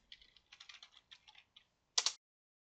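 Someone types a command on a computer keyboard in several quick bursts of keystrokes with short pauses between them. It ends in one louder cluster of clicks, close and alone with no voices.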